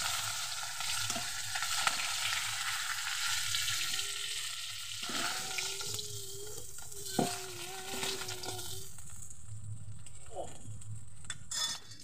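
Fried fish head lifted out of hot oil: continuous sizzling with scraping utensil stirs and a few metallic clinks against the pan, and brief faint voice sounds partway through.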